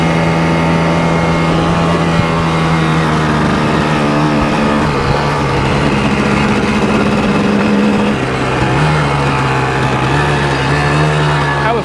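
A Tri Z 250 two-stroke three-wheeler cruises in fourth gear, its engine a loud, steady, buzzing drone with slight pitch shifts, heard close throughout with wind rush.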